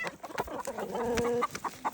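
Hens cluck in short, throaty bursts, with one longer wavering call in the middle; the birds sound close and a little agitated.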